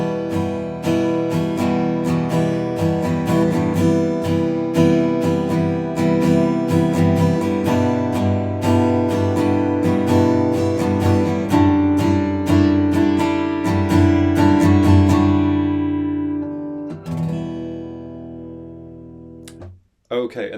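Acoustic guitar strummed through the chord progression of a song in a steady down-up strum pattern, bright and continuous for about seventeen seconds before the strings ring out and fade.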